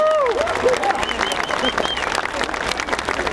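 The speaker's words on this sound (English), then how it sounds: "Give yourselves a big round of applause." Crowd at a May 2008 Barack Obama campaign rally in Portland, Oregon, applauding and cheering in a steady dense wash, with whistles and shouts rising over the noise.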